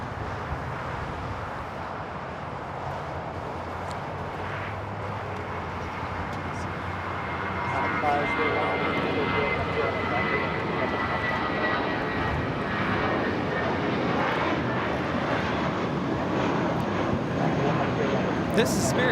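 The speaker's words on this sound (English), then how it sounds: "2084 taking off to Houston Intercontinental on the A320" A Spirit Airlines Airbus A320 jet takes off at LAX, its engines rumbling steadily, then growing louder and fuller midway as it powers away.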